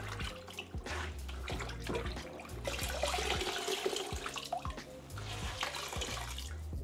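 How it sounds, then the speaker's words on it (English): Clothes are rinsed by hand in a basin of water, with close sloshing and splashing that swells and fades in uneven bursts, plus occasional drips, loud and continuous with no talking. "Normally we rinse the clothes 2 to 3 times until there's no soap anymore."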